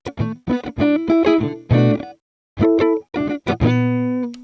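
Electric guitar played in short clean chords and single notes through a Fender Twin amp model on a Donner Hush-X Pro, with a brief pause midway before a final sustained ringing chord.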